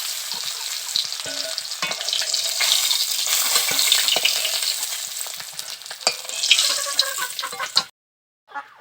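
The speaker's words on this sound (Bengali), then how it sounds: "আমার মাছগুলো ভাজা হয়ে গেছে, এখন আমি মাছগুলোকে তুলে নিচ্ছি" Rohu fish pieces fry in a wok: a dense, close sizzle of oil runs continuously with scattered scraping and clinking from lifting them out, then cuts off abruptly into near silence. No talking.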